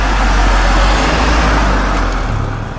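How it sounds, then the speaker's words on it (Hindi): A van reverses fast in a horror story sound effect, a loud, continuous roar of engine and road rumble that holds steady and then eases slightly at the end. "और पागलों की तरह गाड़ी पीछे की ओर ले जाने लगा।"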